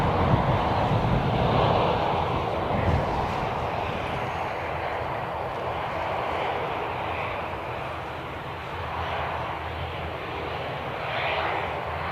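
An EasyJet Airbus A320 airliner departs Birmingham Airport, its jet engines roaring in a broad, sustained rumble that swells and fades gently at a moderate distance, with no voices over it.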